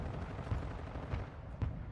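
Gunfire in a video game: several dull, low booming shots spaced about half a second apart over a constant rumbling background, fairly muffled and without talking.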